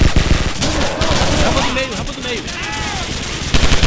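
Rapid automatic gunfire and bursts of shots from the video game Call of Duty, loud and continuous, with a person talking over the firing.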